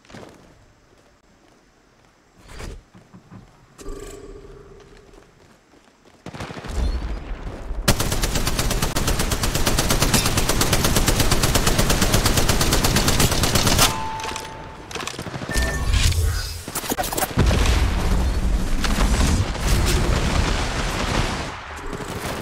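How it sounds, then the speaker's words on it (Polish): Sustained bursts of rapid automatic gunfire from the video game Apex Legends, loud and dense, with short pauses, single shots and a few booms between volleys. "Na pewno tu są strzały."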